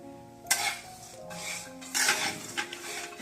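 Peanuts, sesame seeds and coconut roasting in a pan, with a spatula scraping and clinking against the metal over a soft sizzle, a few louder stirring strokes standing out.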